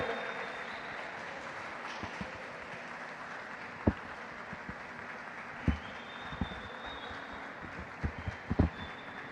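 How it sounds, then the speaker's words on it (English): Audience applause at the opening of a squash world cup, welcoming a national team: steady, moderately distant clapping fills the hall, with a few sharper claps standing out near the end. "Let's have a huge round of applause for them."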